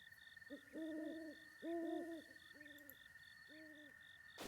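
Owls hoot in The Legend of Zelda: Breath of the Wild, giving four paired, wavering hoots at a steady pace over a thin, constant electronic ambient tone, with no voices.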